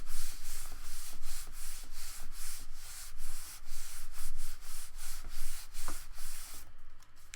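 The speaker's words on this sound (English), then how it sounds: "I can turn it over, rub it from the back." Paper being rubbed from the back to set an image transfer in a journal: steady scratchy back-and-forth strokes in a quick, even rhythm, close and fairly quiet, with no one talking.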